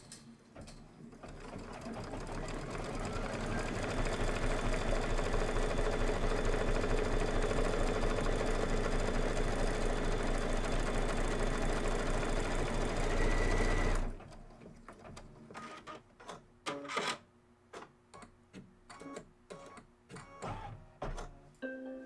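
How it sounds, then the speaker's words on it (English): Computerized embroidery machine stitching out the final pass of a Kimberbell tweetheart pillow design, a steady close whirring hum for about fourteen seconds, then stopping and giving way to irregular clicks and handling noises. "Turn it back to the machine, do that final stitch out"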